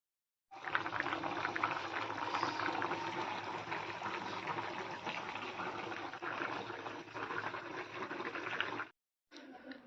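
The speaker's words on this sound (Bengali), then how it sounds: "এদিকে মাছ ভাজা হচ্ছে" Fish frying in a pan in a home kitchen gives a steady, loud sizzle that runs unbroken for about eight seconds, then cuts off before a brief final burst.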